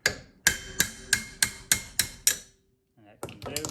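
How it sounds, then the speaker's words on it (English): Small hammer tapping a tool out of a Ski-Doo PDrive clutch, eight sharp evenly spaced metallic strikes ringing close and loud, then a pause and some brief handling noise. "it's just a small hammer"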